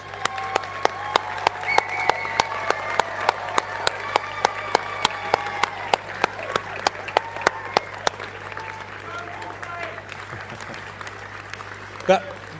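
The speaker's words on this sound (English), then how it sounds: "Give them a huge cheer and a round of applause" Applause and cheering from a university graduation audience, honouring families and supporters in the crowd; dense clapping runs steadily throughout at moderate level, fading toward the end with a brief louder burst.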